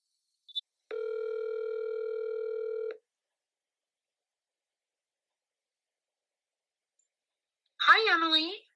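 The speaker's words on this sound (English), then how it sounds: "So I will call her now." A phone call is placed: a brief click, then a steady tone held for about two seconds, a long silence, and finally a voice answering at the end.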